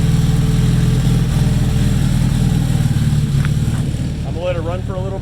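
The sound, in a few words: KA24DET car engine running after rebuild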